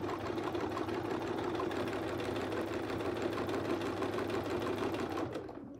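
A sewing machine running continuously as it stitches white fabric, a close, fast rhythmic mechanical hum and needle chatter that slows and stops near the end.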